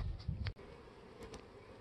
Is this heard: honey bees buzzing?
yes